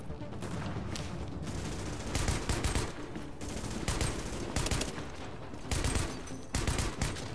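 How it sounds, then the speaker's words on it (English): Submachine gun fire in a video game crackles in repeated rapid bursts, some louder and closer than others, with sustained volleys separated by short gaps and no voices over it. "Submachine gun."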